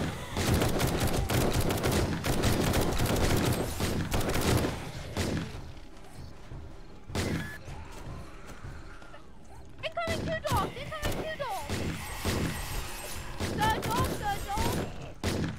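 A turret firing during a zombie horde night in 7 Days to Die Alpha 19, loud rapid bursts of automatic gunfire up front, then scattered shots and clatter later, with talk throughout.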